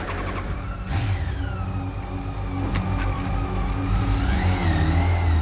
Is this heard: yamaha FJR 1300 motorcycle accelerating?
yes